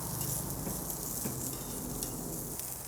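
Chicken wings for lemon pepper wings sizzle steadily in a hot pan, a continuous close frying hiss with faint crackles, and no voices.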